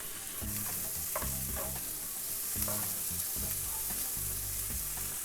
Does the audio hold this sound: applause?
no